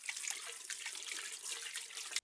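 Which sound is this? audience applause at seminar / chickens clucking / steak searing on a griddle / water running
water running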